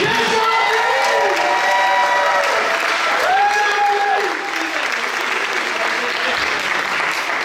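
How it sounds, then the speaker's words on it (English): A large audience at a university Culture Night closing ceremony claps steadily and loudly for the participating student organizations, with whoops and cheers rising above the applause throughout. "Can we get one more round of applause for them?"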